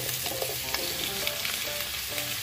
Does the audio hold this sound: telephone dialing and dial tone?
no